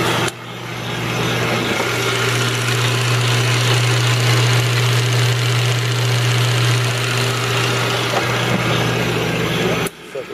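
An RF-31N2F drilling and milling machine runs in reverse with a loud, steady motor hum and a constant mechanical drone. The sound starts abruptly and stops just before the end.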